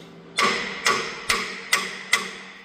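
Five evenly spaced metallic hammer taps drive a part into place beside a truck's hanger bearing, each strike sharp and close with a short ringing decay.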